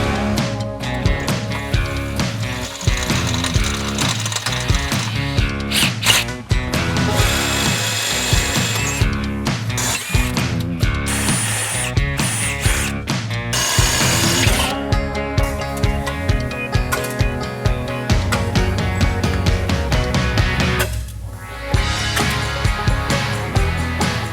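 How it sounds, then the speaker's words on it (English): Loud, close power drill with a 1/4 inch bit grinding through metal rivets on a Can-Am Defender chassis in repeated bursts, the motor whining and catching as bits bite, with brief pauses between pushes. "you'll have to drill these rivets out"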